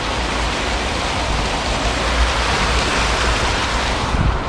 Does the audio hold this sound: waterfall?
yes